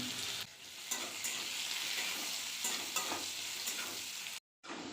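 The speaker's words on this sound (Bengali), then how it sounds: "আলু আমার লাল লাল করে ভাজা হয়ে গেছে" Potatoes fry in hot oil with salt and turmeric, giving a steady, close sizzle broken by repeated scraping stirs, then a brief silence just before the end.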